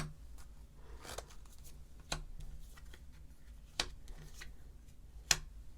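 A tarot advice card is drawn from the deck: faint rustling of cards, broken by a few sharp isolated snaps and flicks, heard close and quiet with no one talking.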